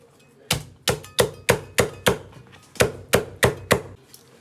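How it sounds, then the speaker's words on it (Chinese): Knife chopping scallion and ginger on a cutting board in a home kitchen: about eleven sharp, fairly evenly spaced thunks, close and clear, with no talking. "切点葱姜"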